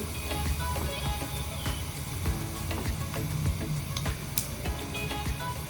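Garlic crackling in hot oil for a radish-free green chutney tempering, a dense steady sizzle with scattered spits and pops, close and fairly loud, with no one talking.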